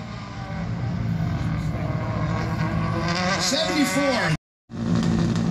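A right-drive Mitsubishi race car runs the Mt. Washington hill climb, its engine a loud sustained roar with rising tones, under a commentator's voice, cut off briefly by a short dropout near the end.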